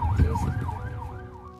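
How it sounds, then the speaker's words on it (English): A wailing police car siren rises and falls in a steady cycle over the low rumble of city traffic, fading slightly toward the end. "They had to be driven away by the police for their own safety, with the siren on"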